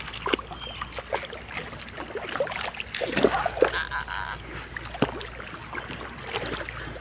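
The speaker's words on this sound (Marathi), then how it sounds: "पुढेच जाऊ दे पाणी लई उडतो।" Water splashes up around a moving boat on a river, a busy wet churning that swells in the middle and rolls on steadily throughout.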